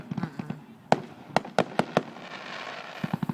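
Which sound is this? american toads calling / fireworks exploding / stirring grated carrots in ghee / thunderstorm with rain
fireworks exploding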